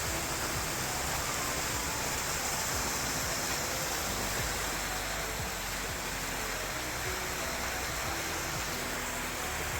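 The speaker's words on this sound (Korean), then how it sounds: "계곡 사이로 흐르는 폭포수 소리가 청아하게 울려 퍼지고" Waterfall pouring through a mountain valley on Bukhansan in autumn, a steady dense roar of rushing water that holds unbroken and fairly loud throughout.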